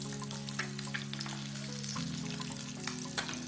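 Eggs roasting in oil in a pan for red chilli egg curry, a close, steady sizzle and frying crackle with a few small pops, no voices.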